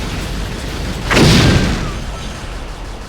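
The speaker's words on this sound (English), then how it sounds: "That explosion was way louder than it needed to be." A single loud explosion booms in the Bayonetta video game, a sudden heavy blast that swells and then fades over steady game background noise.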